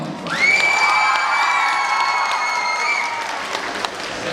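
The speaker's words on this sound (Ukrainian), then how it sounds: "Артем Шошин, поаплодуємо." Concert audience at a children's talent show in a hall bursts into loud applause and cheering, with high shouts and whoops over dense clapping that gradually thins out.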